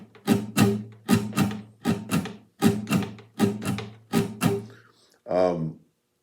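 Guitar strummed in a lilting uneven shuffle, short bright strokes in pairs, followed by a brief sustained chord at the end.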